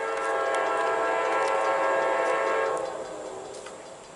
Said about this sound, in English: To be honest, it looks like a one-engine coal train.